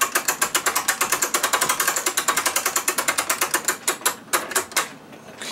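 Rapid, loud ratcheting clicks close by from a clamp being worked on the mainspring of an antique Seth Thomas clock, a steady run of clicks that slows and spaces out near the end.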